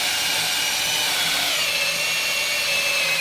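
A big power drill bores steadily into a wooden log, with a loud, continuous high-pitched whine and grinding that holds level, close by, for about three seconds.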